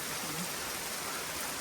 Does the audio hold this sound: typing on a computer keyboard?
no